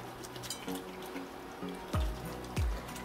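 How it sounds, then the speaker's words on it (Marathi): Goat tripe is scrubbed by hand under a running kitchen tap, giving a steady soft flow of water with a few splashy surges and slaps, quiet and close, with no talking. "हे बघा असं हातानं चोळून चोळून चोळून चांगलं धुवून घ्यायचं"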